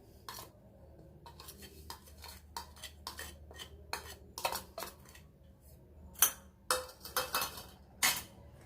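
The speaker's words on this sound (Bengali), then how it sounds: "এবার সবগুলো একসাথে ভালো করে মিশিয়ে নিতেছি।" Spiced potato filling with coriander powder, chili powder and salt mixed in a bowl by hand or spoon, a quick run of close clinks and scrapes that grow louder toward the end, with no voices.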